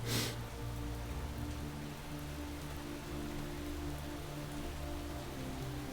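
Rain pours down in the video game Space Engineers as a steady, even hiss of falling water, with a low droning hum running underneath and a brief louder burst at the very start.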